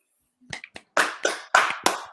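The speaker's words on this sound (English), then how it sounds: "Let's clap it up real quick" A few hand claps on a basketball podcast: some soft taps, then four loud, sharp claps spaced evenly apart, close and dry.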